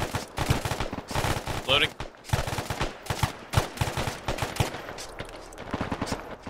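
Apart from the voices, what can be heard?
gunfire in a video game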